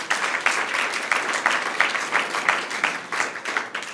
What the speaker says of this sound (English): please applaud for yourselves.